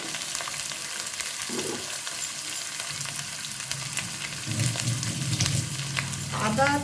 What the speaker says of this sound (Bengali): আদা তেলেতে আদা দেওয়ার পর তেলটা ছিটে আসে